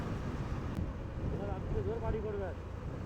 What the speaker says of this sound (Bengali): কি সুন্দর হাওয়া চলছে এখন